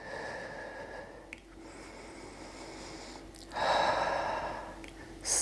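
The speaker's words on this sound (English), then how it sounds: "Deep breath in." A deep breath in during a yoga power pose: a quiet, drawn-out inhale swells midway and fades. A shorter breath follows near the end over a soft room hush.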